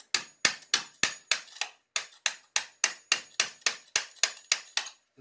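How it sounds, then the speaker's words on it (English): A hammer tapping tile while tiling a bathroom, about fifteen sharp, bright knocks in a fairly even rhythm, close and clear with nothing else around them. "take the hammer"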